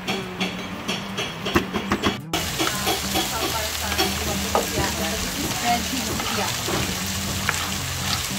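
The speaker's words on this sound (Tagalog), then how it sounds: "Saktong gisa lang yung gagawin natin dito. Kumbaga, ipapalambot lang natin yung carrots," Carrots and other vegetables sauté in a pan for a Filipino apritada, a continuous sizzle with stirring scrapes after a brief sharper opening, steady and close throughout.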